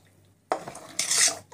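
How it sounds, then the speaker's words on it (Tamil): A thick porridge mixture being stirred in a pot, with a spoon scraping and clinking against the metal in two bursts after a brief quiet start; no talking. "இது வந்து நல்லா வந்து இப்படி கலக்கி விட்டுக்கணும்."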